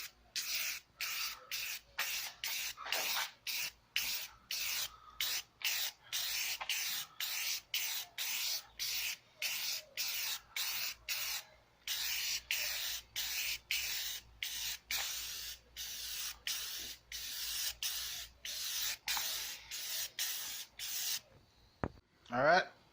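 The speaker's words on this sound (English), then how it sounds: "I'm going to use the Rustoleum automotive primer. Shake it up really good and" Rustoleum automotive primer is sprayed from an aerosol can onto a jetski in repeated short bursts, each a sharp hissing blast separated by brief pauses, close and fairly loud, with a faint rattle near the end.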